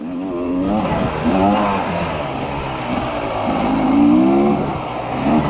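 A dirt bike engine revs up and down continuously, rising and falling in pitch, fairly close and loud throughout.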